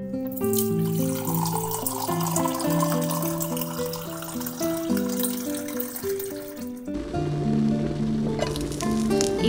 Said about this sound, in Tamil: அதுல தண்ணி ஊத்தி கொதிக்க வச்சுக்கோங்க.